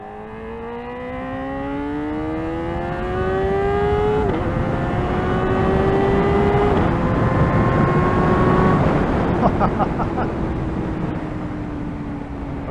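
Kawasaki Ninja ZX-4RR sport bike, a 2024 model, being ridden, its engine note climbing steadily through the gears with shift breaks, loud and close throughout with no talking.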